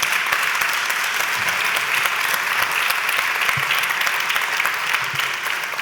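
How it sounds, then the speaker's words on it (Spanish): Steady, loud audience applause comes from a crowd at a talk with musicians, a continuous dense clapping texture sustained for several seconds without speech. "Un aplauso."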